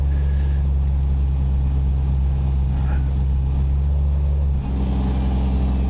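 A truck engine in a video game drones loudly and steadily, a short air-brake hiss bursts out midway, and the engine note drops and shifts near the end.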